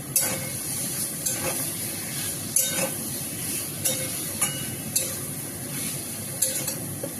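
Meat and potatoes frying in a pan with a constant close sizzle, punctuated by regular scraping stirs and occasional metallic clinks of the utensil against the pan, with no voices.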